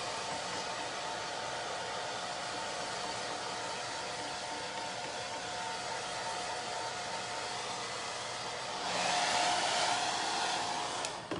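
A hair dryer blows steadily to dry a Chalk Couture chalk transfer for a Halloween craft, a continuous close whooshing hum that grows slightly louder and brighter near the end, with no speech.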